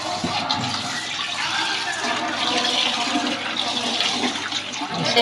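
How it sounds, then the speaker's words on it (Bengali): Aromatic rice is washed by hand in water, producing a continuous close sloshing and swishing of water and grains that stays loud and steady throughout. "চালটা ধুয়ে ভিজিয়ে রাখি, আপনারা দেখেন।"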